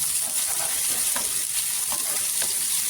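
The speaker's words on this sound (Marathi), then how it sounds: "कांदा छान असा परतायचा. सोनेरी कलर करून घ्यायचा कांद्याचा." Chopped onion sautéing in hot oil in a pan for cabbage curry, a continuous dense hiss and crackle with a few soft stirring scrapes, close and steady with no talking.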